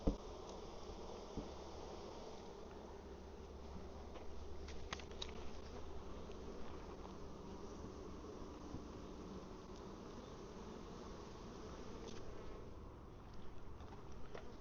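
Honey bees buzz around an open, large beehive, a dense steady hum of many insects up close with occasional louder passes of single bees.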